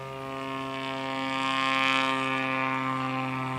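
STOL aircraft taking off at a Sodbusters STOL competition, a steady droning propeller engine with strong harmonic tones, swelling slightly louder midway and then holding.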